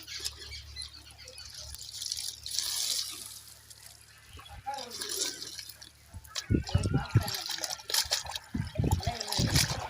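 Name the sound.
water running while washing something by hand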